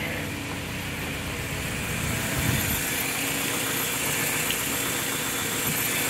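A truck engine idles steadily with a low, continuous rumble and faint rattle, running alone at moderate, even volume throughout.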